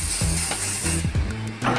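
An aerosol can of cooking spray hisses steadily into a glass bowl in a home kitchen, close and fairly loud, with clicks and faint clatter underneath.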